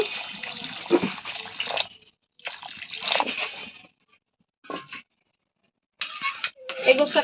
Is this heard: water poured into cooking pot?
yes